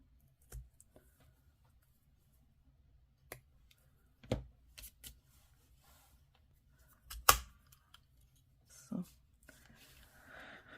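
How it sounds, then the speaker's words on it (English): Scissors snipping a piece of lace for a craft project, a few sparse, sharp clicks and cuts spread apart against near silence, with faint handling noise between them. "I want to cut that down a little bit."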